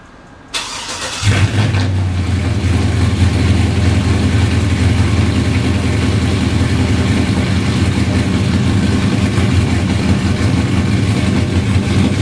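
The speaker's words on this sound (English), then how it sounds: "we finna see if Cayenne gonna crank" Porsche Cayenne engine cranking briefly, then catching and settling into a loud, steady, close idle rumble that holds for the rest of the time.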